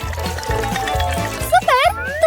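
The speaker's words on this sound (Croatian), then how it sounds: "A u bazen treba sipati vodu." Water is poured into a toy swimming pool for a doll, giving a steady liquid gurgle close by, while a speaking voice talks over it and a brief tonal squeak comes near the end.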